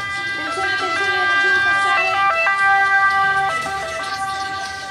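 Several overlapping ambulance sirens wail nearby with shifting two-tone pitches, loud and sustained over traffic noise.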